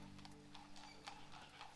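A horse's hooves clip-clop at a steady walk as it pulls a big heavy cart along a path, heard at moderate distance over a soft continuous background hum.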